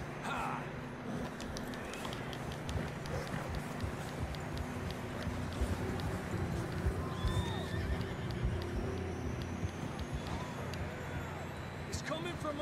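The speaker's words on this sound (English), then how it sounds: "Look at that horse" A horse neighs amid wind and hooves in snowy Red Dead Redemption 2 game terrain, the whinnies and clip-clop fairly faint under steady ambient noise, with voices talking intermittently.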